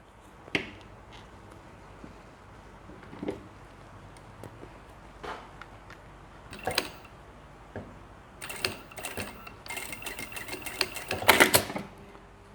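A sewing machine stitches a pleated bag in short bursts of rapid mechanical clatter, separated by quiet pauses and small clicks, and grows busier toward the end, with no voices.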